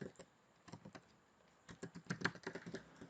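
Light, irregular tapping on a computer keyboard comes in short bursts of keystrokes with quiet gaps between them, close and soft.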